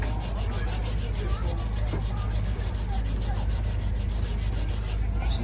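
Wet sanding an epoxy and fiberglass repair on a Liquid Force Quest wake surf board with a fine sanding block, a steady continuous rubbing close up with a low background hum and no talk.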